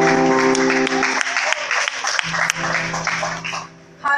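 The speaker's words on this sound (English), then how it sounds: "Let's clap for Master Jesus." Congregation clapping at a church service, dense applause with sustained music or organ tones underneath, fading near the end.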